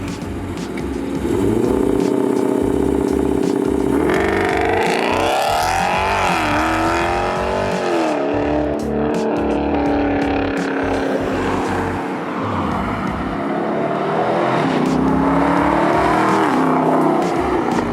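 A 6.4-litre HEMI V8 in an SRT Jeep fitted with a Varex muffler launches hard, the engine rising loud and steady through a long, continuous rev and acceleration.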